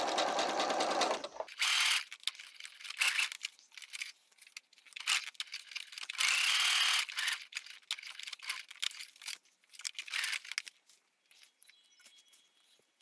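A domestic sewing machine runs a second line of stitching a quarter inch in on a fitted fabric face mask, with several separate bursts of rapid whirring broken by short pauses, close and fairly loud.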